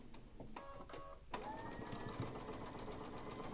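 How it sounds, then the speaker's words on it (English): Sewing machine stitching a seam on quilt teapot blocks, a few short starts before settling into a steady, fast mechanical whir and clatter, close and fairly quiet. "we're going to sew this together"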